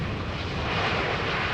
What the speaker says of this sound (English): The 747-8 that is coming now is the second to last ever produced.